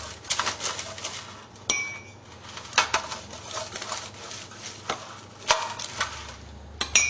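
A metal spoon scrapes and taps against a baking pan while spreading melted butter for baklava, giving repeated light clinks and scraping strokes at close range over several seconds.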